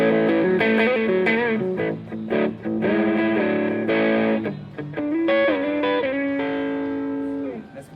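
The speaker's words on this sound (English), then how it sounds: "little tiny Fender amp overdriving sounds like this" Electric guitar through a Pigtronix Aria analog distortion pedal, giving the crunchy overdriven tone of a tiny Fender amp, plays loud sustained chords and riffs up close with no talk over it.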